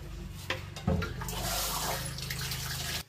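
Water poured steadily into a container holding mackerel, a continuous splashing gush lasting about three seconds before cutting off abruptly.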